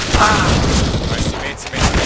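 USP pistol fire in Counter-Strike: Global Offensive, loud bursts of gunfire and game noise packed densely through the moment, with no clear spoken words.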